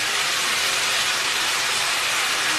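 Water poured onto fried onions in a hot pan, giving a steady, loud, broadband sizzle that hisses continuously without pause and without voices.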